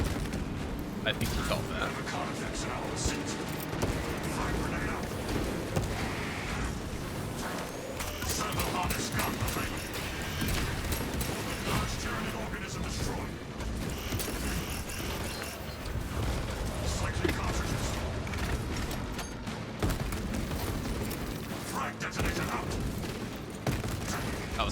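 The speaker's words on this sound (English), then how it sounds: "Let the servo gun do its job." Rapid, continuous servo gun fire from Space Marine 2 pounds steadily throughout, layered with explosions and battle noise, while someone talks over it.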